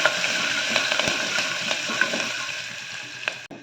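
Finely chopped ginger and garlic sautéing on low heat in a pan, a continuous soft sizzle with light scraping ticks of stirring scattered through, fading slightly at the end.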